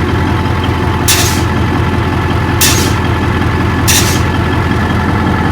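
A Kenworth C540 diesel truck idles after sitting for 30 years, its loud, steady low engine rumble running throughout, cut by three sharp hissing bursts of air at roughly even intervals.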